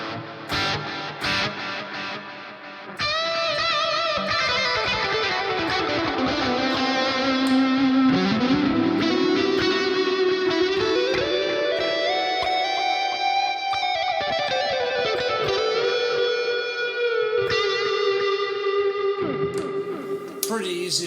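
Electric guitar lead through a Neural DSP Archetype Plini amp-sim plugin, with sliding bends and a washy reverb tail, sustained and fairly loud, notes blurring into a spacious ambience.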